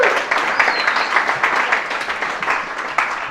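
An audience at a lecture applauding first-year students, a moderate bout of clapping with uneven bursts and a few distinct sharp claps, fairly close and continuous across the short stretch.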